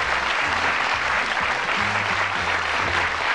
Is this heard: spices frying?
no